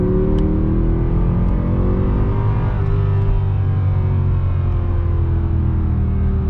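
Mercedes C63 AMG V8 engine revving loudly and steadily up close, a deep throaty roar with rising and falling pitch and no talking.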